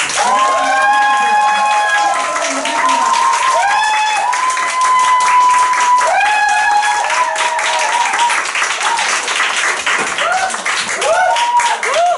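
An indoor crowd claps and cheers continuously at a business event as a speaker is welcomed to the stage, loud steady applause running under upbeat music with long sustained tones.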